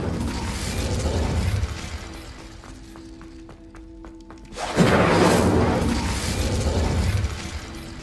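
Incendio fire spell cast in Hogwarts Legacy: a roaring whoosh of flame swells, drops to a brief quieter stretch with clicking mechanisms, then bursts back loud and sustained.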